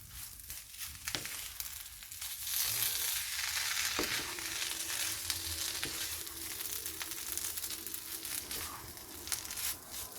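Salna gravy heats with wheat kothu parotta in a pan, giving a soft, steady sizzle with scattered faint crackles and scraping.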